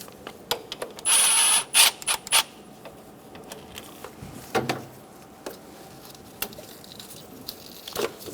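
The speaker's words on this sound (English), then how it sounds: "using a 10mm socket, we're going to take the tension off of the belt" A ratchet with a 10mm socket loosens the timing belt tensioner on a 1994-1997 Honda Accord 2.2L four-cylinder, giving short bursts of metallic clicking and clanks near the start, then sparse taps and knocks.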